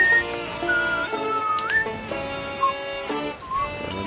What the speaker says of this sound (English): Arshik, could you not whistle?